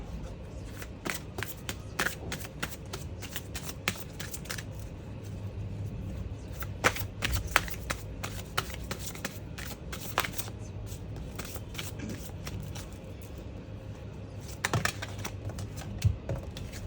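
A deck of Shiva-themed tarot-style reading cards is shuffled by hand, producing a long run of soft, quick riffling flicks and taps that go on and on, close and fairly quiet, with no talking.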